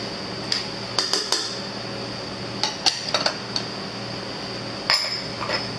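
Black beans stirred in a cooking pan, a few sparse utensil clinks and knocks against the metal over a low background hum, nearby and fairly quiet.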